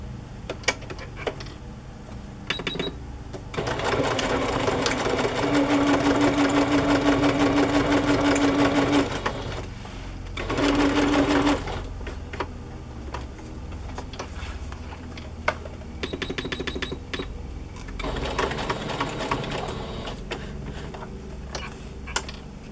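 Sewing machine stitching through fabric journal pages in two runs, a longer steady buzzing stretch and a shorter one, with softer mechanical ticks and handling noise around them and no speech.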